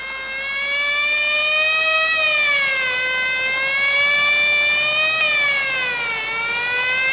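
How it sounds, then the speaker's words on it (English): A wailing siren rising and falling in slow, smooth sweeps, loud and steady throughout, heard alone without voices. "Quite unnecessary use of that siren, Chief."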